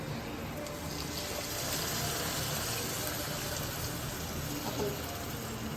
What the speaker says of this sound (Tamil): இப்போ வந்து புளி தண்ணி சேர்க்க போகிறோம்.